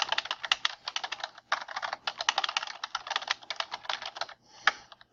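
Rapid, steady typing on a computer keyboard, close and clear, with dense bursts of key clicks broken by a few short pauses and a sharper keystroke near the end, with no talking.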